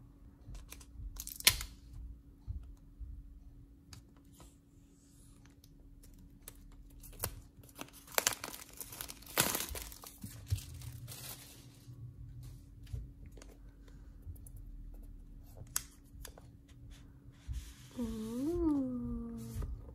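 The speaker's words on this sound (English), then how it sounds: "let me unbox the pencil and the protector" Packaging for an Apple Pencil and screen protector is handled close up, with scattered crinkles, rustles and short bursts of tearing, then a brief voice near the end.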